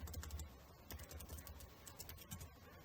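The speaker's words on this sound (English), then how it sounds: "now we type something Colombia" Fingers tap steadily on a computer keyboard, a quiet run of soft clicking keystrokes while entering text into an encyclopedia wiki page, with no voices.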